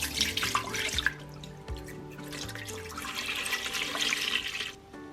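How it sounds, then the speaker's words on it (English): Milk poured into the inner pot of a Cosori pressure cooker, a steady liquid stream splashing and trickling into the metal pot, with a few clinks and a brief pause near the end. "the first thing I'm going to do is pour my milk into my inner pot"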